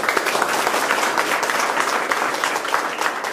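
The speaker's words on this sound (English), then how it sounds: "First of all, clap for yourself." A group of participants in a circle-based public speaking activity clap for themselves, a full, steady burst of many hands clapping close by, dense and even throughout with no talk over it.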